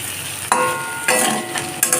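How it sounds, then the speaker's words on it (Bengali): Fried coriander, cumin, dried chillies and salt being stirred in a pan over a low gas flame for a vegetarian taro curry: three distinct scraping strokes over a steady, close sizzle, with no talking. "এখন গ্যাসটাকে লো ফ্লেমে রেখেই হালকা করে নাড়াচাড়া করতে থাকবে"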